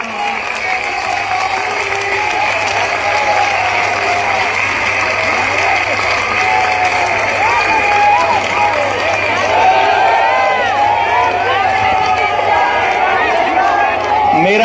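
A large crowd at a Bageshwar Dham padyatra gathering claps and cheers in a loud, dense, continuous roar of applause that fills the whole stretch.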